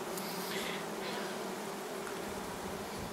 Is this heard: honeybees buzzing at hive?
yes